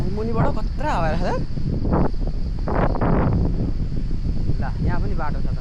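Strong wind on a mountain trail roars steadily across the microphone, a continuous near rushing that persists beneath a person talking.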